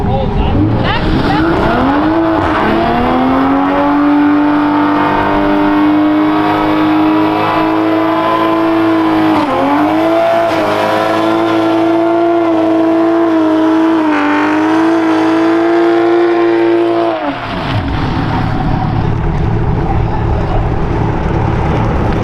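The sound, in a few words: Toyota MK5 Supra doing a burnout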